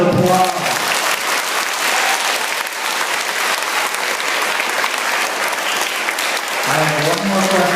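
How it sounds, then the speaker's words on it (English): Steady, dense applause from a school audience at a mayoral candidates' forum, loud and sustained for several seconds with brief voices at the start and end. "Give the candidates a huge round of applause."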